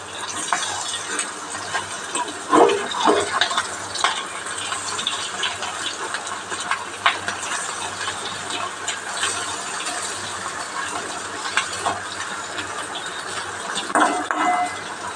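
An egg mixture for dimer dhoka fries in a pan, giving a steady, close hissing sizzle with occasional spattering pops and utensil clinks throughout.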